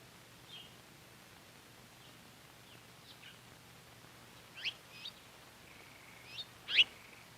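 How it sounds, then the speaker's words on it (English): Birds calling around a backyard feeder, scattered faint chirps and short tweets over a quiet hissy background, with a couple of sharper, louder calls near the end. "Sometimes a beautiful Oriole visits the feeder."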